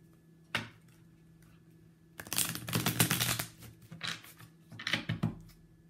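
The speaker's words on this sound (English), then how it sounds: "let me just shuffle real quick" A tarot card deck being shuffled in short bursts: an isolated riffle, then a longer run of rapid papery flicks and slaps, and a final burst, close and fairly quiet against a silent room.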